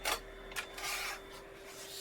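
Sandpaper rasps across the middle of a wooden garlic keeper held still, in a few short scratchy strokes over a faint steady hum, close and moderately loud with no speech.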